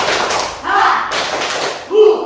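A primary classroom of sixth graders doing a rhythmic spirit clap a second time with more energy, heard as a few short bursts of group clapping and thuds, with a teacher's voice speaking around them.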